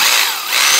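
A loud, close Bosch GBH 2-24 D rotary hammer in hammer-only mode grinds and rattles continuously in a brief burst of harsh mechanical noise.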